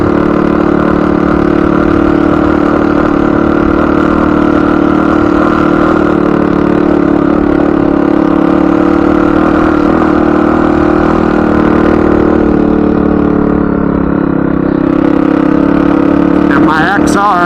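A motorcycle engine labours up a hill in the Nevada desert on the way to Gold Point. It gives a loud, steady drone that does not climb much, and someone talks over it.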